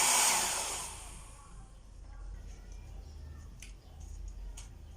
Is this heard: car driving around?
no